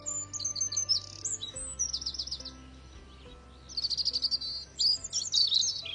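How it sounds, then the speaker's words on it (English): Several birds chirp and trill in bright, quick bursts in a garden in spring, some close and some farther off, over a quiet low outdoor hum, with no talking. "You can hear the birds singing"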